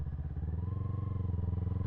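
A motorcycle engine runs while riding in winter, a steady, faint, rhythmic low putter with a slight pitch rise partway through, alone without voices.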